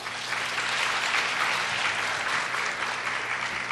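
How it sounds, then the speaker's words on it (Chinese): A large conference audience claps steadily to welcome a speaker, dense continuous applause filling the hall from start to finish without talk. "来，热烈的掌声欢迎一下"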